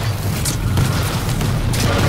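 Grenade explosion in the shooter Quake Champions during a deathmatch, heard as a loud, deep booming burst with rumbling low end and brief crackling pops, no talk over it.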